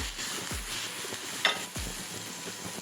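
Blood fries in a pan over medium flame with onions and fennel, a soft continuous sizzle broken by a few close spoon scrapes and stirs, with no talk.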